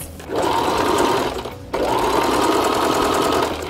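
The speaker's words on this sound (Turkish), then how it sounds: "dikiş yapıyoruz ve birleştireceğiz" A sewing machine stitches the seam of a girl's ruffled dress in two loud, steady runs with a brief pause between them, the whirring motor close and continuous.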